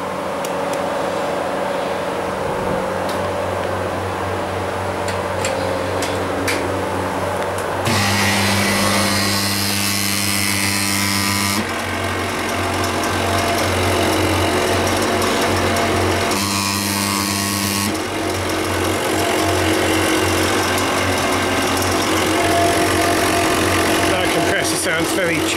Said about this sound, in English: We have just plugged it in and it made a horrible noise.